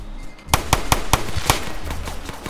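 Gunfire in the Roblox video game, a rapid string of sharp, loud cracks in an uneven burst over a faint low background, heard close with no talking.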